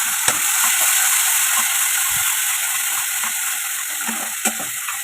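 Garlic, green chilli and onion paste sizzles in hot oil as a bright, loud, continuous hiss close by, with a few scattered clicks and spoon taps and no voices.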